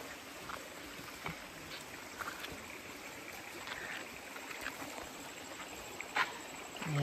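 A creek near small falls at Cabarsican gives off a steady, faint rushing flow of water that holds evenly throughout, with a few light splashes and clicks over the constant wash.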